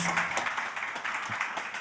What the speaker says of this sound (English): Applause for Bogdan, please